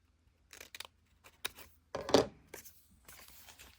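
Paper being trimmed with scissors for a junk journal, several short close snips and crisp paper rustles in quick uneven bursts, quiet between cuts.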